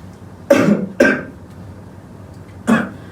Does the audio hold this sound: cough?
yes